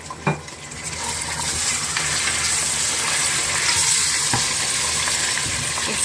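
Meat drops into browned onions in a pan for nihari and fries with a steady, loud sizzle. The sizzle holds over several seconds, broken only by a brief clatter at the start, and no one speaks.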